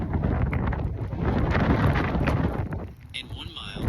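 Wind buffets a microphone during a long-distance bike ride on a road, a loud, steady roaring rush with gusty swells, briefly easing before picking up again.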